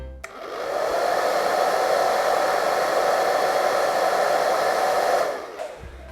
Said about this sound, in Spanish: Mirá, un secador de pelo.